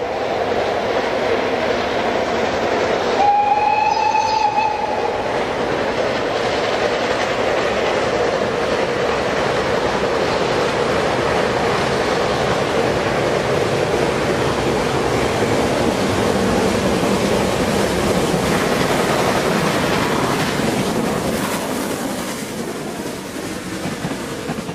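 Steam locomotive on the Harzquerbahn labouring up a long gradient behind Sorge in the Harz in autumn, a steady loud rush of exhaust and rolling wagons with a brief whistle early on, continuous throughout.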